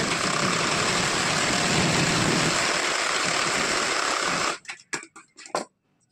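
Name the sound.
sewing machine stitching a blouse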